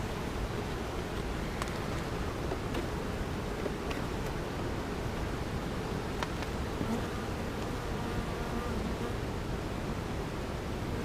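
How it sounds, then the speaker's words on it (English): Dense, steady buzzing of many honeybees at a hive, a continuous droning hum with faint rustling and no voices. "There's a few frames that have bees on them still."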